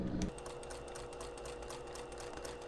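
A sewing machine runs a straight stitch through thick fabric close to the edge, a fast even clatter of needle strokes, steady and close by, with no voices.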